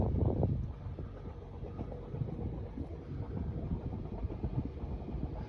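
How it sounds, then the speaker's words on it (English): A gentle breeze blows across a boat riding at anchor off Green Turtle Cay in the Bahamas, giving a soft, uneven low rush of wind against the microphone, with a stronger gust right at the start. "It's a gentle breeze blowing."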